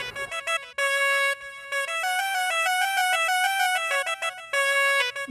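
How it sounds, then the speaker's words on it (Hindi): A mobile phone plays a looping electronic ringtone melody, loud and alone, ringing on repeatedly in short bursts with a brief gap as the call goes unanswered. "मैंडी फोन करती हूँ।"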